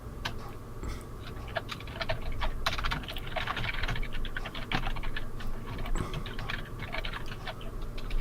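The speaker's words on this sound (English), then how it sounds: "Sylvanus is hammering furiously at his keyboard" Rapid, furious typing on a computer keyboard, with a dense run of close key clicks and clacks continuing for several seconds over a steady low room hum.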